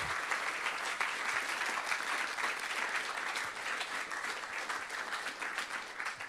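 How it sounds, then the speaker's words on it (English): Sustained audience applause at a DrupalCon Sydney 2013 conference session, a dense, even roar of many hands clapping at once, filling the room steadily from start to finish without talk over it. "I'd like to give a big thank you and hopefully a round of applause for all of the people here up front"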